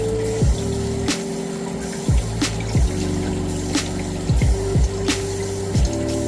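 Running water from a tap pours steadily and loudly over mushrooms being washed, with a continuous hiss, occasional splashes and a low humming tone underneath.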